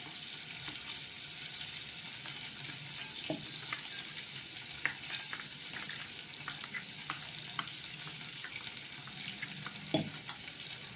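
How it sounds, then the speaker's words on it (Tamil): Cornflour stirred into water with a spoon in a small bowl, for a road-shop style mushroom masala gravy: steady soft scraping and swishing with a few sharper clinks, close and alone, no talking. "அப்படி தண்ணி போட்டு மிக்ஸ் பண்ணிடுவோம்"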